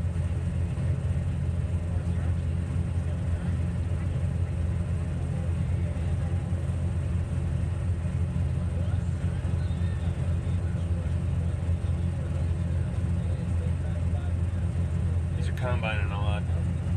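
A combine harvester working a soybean field, a constant loud low engine drone and rumble running throughout with a faint voice near the end.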